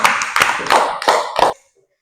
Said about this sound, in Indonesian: Baik, tepuk tangan dulu untuk semua.